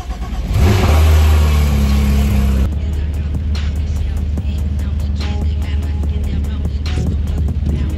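A Porsche supercar engine fires up and roars loudly for a few seconds, then settles into a steady, rumbling idle that continues to the end.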